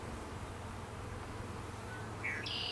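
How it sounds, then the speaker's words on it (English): Honeybees hum around an open beehive during an inspection, a soft steady low drone with a few faint high chirps near the end and no talking. "I see some bees carrying pollen."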